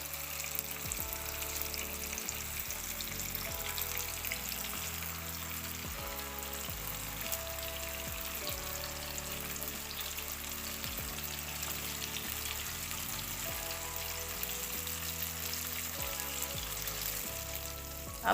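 Chicken wings frying in hot oil for crispy fried chicken, a steady dense sizzle running throughout under a looping musical backing, with no voices.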